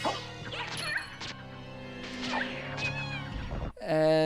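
A cat familiar in Castlevania: Symphony of the Night meows repeatedly, drawn-out and tonal, over game music, ending with a brief louder synthesized game sound.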